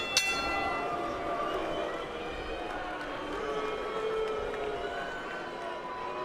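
At a professional boxing match a single bell strike rings out at the very start, then its tone decays under a steady crowd roar and commentary voices.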